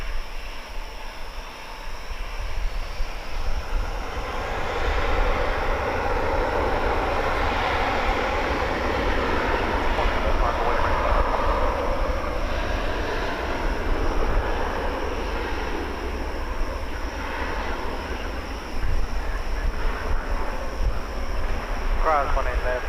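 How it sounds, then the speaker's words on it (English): An American Airlines Airbus A321 at DFW airport produces a loud, sustained jet engine roar that swells and holds for over twenty seconds, with a voice talking faintly beneath the noise. "American flight 1969 to Las Vegas and Airbus A321 is next up."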